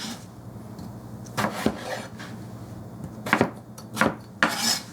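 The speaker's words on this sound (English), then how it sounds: "I've just kind of cut this into 3 slices because this is like a smaller potato, and then in half and in thirds again" A knife chops a small potato into roughly one-inch cubes on a cutting board, with several distinct wooden knocks and scrapes, some spaced apart and some in quick pairs, over a quiet background.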